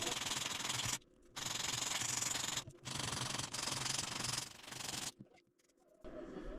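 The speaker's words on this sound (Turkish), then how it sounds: "Biraz daha zımparaladıktan sonra sanırım yeterli olacaktır" A small handmade fishing lure being sanded by hand, a close, steady scratchy rubbing in several long strokes separated by brief pauses, with no talk.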